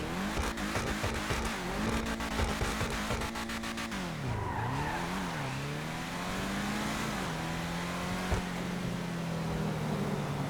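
A sports car in GTA 5 Online gets a sound check: a loud revving engine rises and falls through gear changes, with tire skids and a low rumble carrying steadily throughout.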